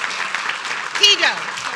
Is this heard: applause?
yes